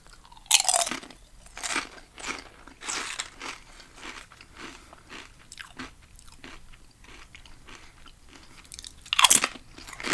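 Close, crisp crunching and chewing of tacos with salsa, delivered as a run of irregular bites and crackles, the loudest at the start and near the end, with no talking.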